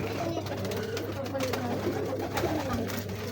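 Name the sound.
pigeon cooing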